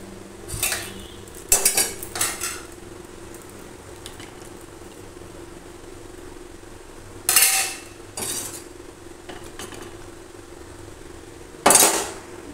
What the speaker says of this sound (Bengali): এবারে জল দেওয়ার পরে একটু নাড়াচাড়া করে নেব, আর তারপর আমি ভেজে রাখা আলুগুলো অ্যাড করব।